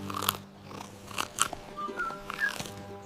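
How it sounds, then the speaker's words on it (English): Someone bites and chews a crunchy carrot up close, with sharp crisp snaps followed by wet munching, over a soft steady musical backing from a children's song. "Crunchy carrot, munch, munch, munch, the very best thing for his lunch."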